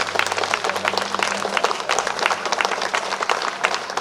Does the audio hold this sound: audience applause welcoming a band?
yes